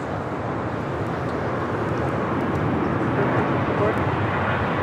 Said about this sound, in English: First up, Japan Airlines in the One World livery, coming in from Tokyo Haneda, 787-9 Dreamliner